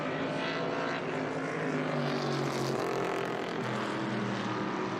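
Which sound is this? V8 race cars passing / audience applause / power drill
V8 race cars passing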